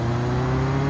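Car engine in the Mon Bazou game pulling hard under nitrous, a steady loud drone with strong low tones, no voices over it.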